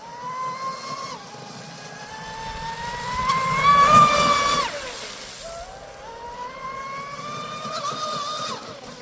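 An RC car with a TP-4060-SVM brushless motor runs at a little under half throttle, giving a rising and falling electric whine that swells loudest around the middle and then climbs again. No one speaks.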